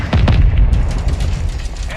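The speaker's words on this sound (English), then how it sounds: "Incoming missile." Heavy booms and blasts from a Call of Duty: Modern Warfare II battle, an incoming missile strike. A couple of close, loud impacts come early, followed by rumbling combat noise.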